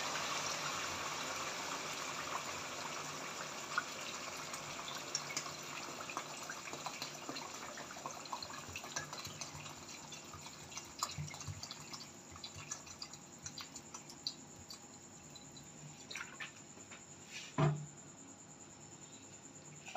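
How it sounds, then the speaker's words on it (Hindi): About a litre of water is poured into a pot of mutton trotter curry cooking on the stove. The stream is a steady, soft gush with a bubbling edge and one brief clunk near the end, and no one talks. "तकरीबन मैं इसके अंदर 1 लीटर पानी डालूँगी"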